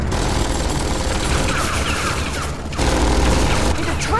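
Turrets in Tales From The Borderlands fire in a dense, continuous barrage that fills the scene loudly with constant rattling bursts and booms, briefly dipping before resuming.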